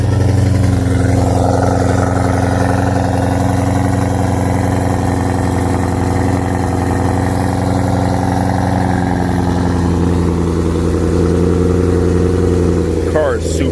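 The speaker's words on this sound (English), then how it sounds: "YouTube loves cold starts, especially E85 cold starts." A supercharged BMW E92 M3 engine, running on E85, cold-starts and idles steadily and loudly nearby with a low, even rumble, then revs slightly near the end.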